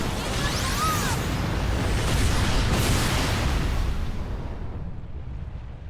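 A bridge exploding in the Trials of Mana video game: a loud, sustained rumbling blast with crashing debris that fills the first few seconds, then slowly fades and thins out toward the end.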